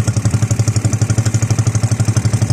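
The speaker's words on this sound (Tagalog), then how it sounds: "nahirapan ako patakboy ng makina." A small fishing boat's engine runs steadily nearby, a loud rhythmic chugging putter with clattering mechanical noise and a fast, even pulse throughout.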